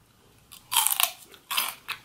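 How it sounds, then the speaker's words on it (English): Crisp, close bites into crunchy celery with French dressing, two loud snapping crunches with a quieter crackle between and a small one at the end. "Let me get a piece of this celery."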